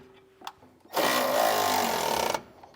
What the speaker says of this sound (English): Now we can come back underneath and tighten down our nuts that are on the bottom of our large bolts.